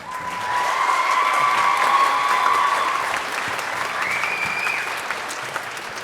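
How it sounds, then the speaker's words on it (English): Concert audience at a middle and high school show gives a round of applause, dense clapping swelling and holding strong for several seconds with some light cheering mixed in, then tapering slightly. "How about one more round of applause for Ty Nafziger?"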